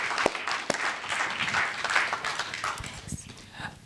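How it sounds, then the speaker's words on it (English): An audience at a planetarium live event applauds, a scattered round of clapping with a few sharp individual claps, heard alongside talk. "Give yourself a round of applause."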